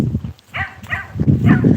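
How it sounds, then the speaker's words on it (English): A small yappy dog barks repeatedly in short sharp yaps, close and loud, during an outdoor morning walk. "got a bit of a yappy dog."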